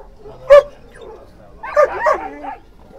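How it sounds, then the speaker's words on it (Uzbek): A one-month-old puppy gives a short sharp yip, then a burst of high whimpering and squealing barks follows, close by, with faint voices around, at a dog market in Fergana. "bir oylik olaba kuchuklar ekan"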